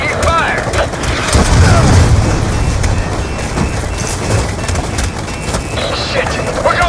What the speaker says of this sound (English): Damn it! Taking fire!